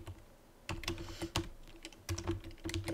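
Computer keyboard typing while entering C++ code, a few bursts of close keystrokes in quick clusters separated by short pauses, no voices.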